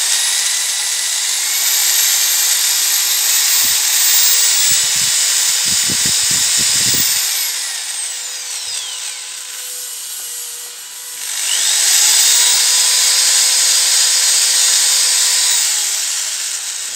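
A corded electric screwdriver whines steadily at high pitch, cutting out midway and then starting up again, with a cluster of clicks and knocks while it runs.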